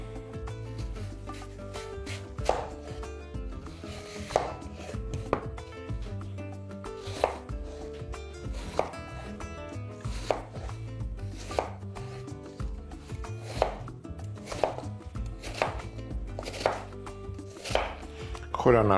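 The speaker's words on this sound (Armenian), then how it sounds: "և կտրատում ենք խորանարդիկների։" A knife cuts ingredients into cubes on a board for a layered puff-pastry apple pie. The chops are steady, rhythmic and close, with a low background hum.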